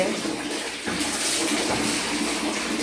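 Water pours steadily over two small children at bath time outdoors in hot weather, a loud continuous splashing rush that swells briefly partway through.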